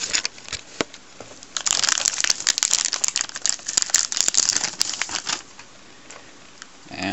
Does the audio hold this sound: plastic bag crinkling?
yes